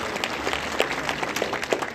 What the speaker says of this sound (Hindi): मैं जिले के समस्त कार्यकर्ताओं से निवेदन करता हूँ कि ताली बजाकर स्वागत करें।